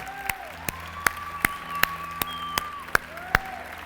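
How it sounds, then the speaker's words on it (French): A small gathering at a Christmas celebration clapping, a handful of sharp, spaced claps at a slow irregular rhythm over a sustained tonal hum, fairly close. "Est-ce qu'on peut applaudir Jésus et sa fête?"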